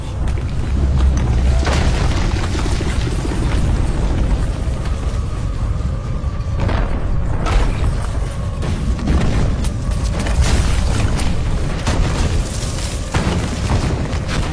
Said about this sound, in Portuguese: Tremores que se tornavam cada vez mais fortes, como se algo estivesse se aproximando incessantemente, causando um terremoto a cada passo